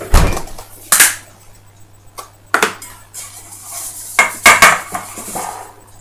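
Metal sandwich cake tins handled on a kitchen counter, several sharp clanks and clatters as they are picked up and set down, close and loud, with quiet pauses between.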